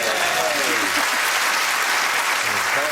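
Steady applause from a studio audience at a television quiz show, a fairly muted, even round of clapping that carries on without a break for about three seconds, with no voices over it.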